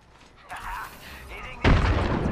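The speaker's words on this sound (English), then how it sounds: "Lobbing a frag" A frag grenade goes off in a shooter game, a sudden loud boom that follows a burst of softer gunfire and game effects, with the blast rumbling on as a heavy roar to the end.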